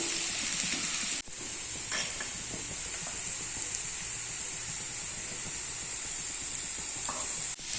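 Sliced onions sautéing in oil in a pan for a shallow-fried potato dish, a steady soft sizzle with faint stirring scrapes, close and alone, briefly broken by two short clicks.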